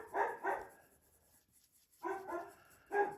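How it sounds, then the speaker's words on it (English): A dog barks in a home, a pair of quick barks, a pause, then a few more barks, moderately loud and fairly near with no talk over them. "More dogs, so Cooper's going to be barking for a little bit here."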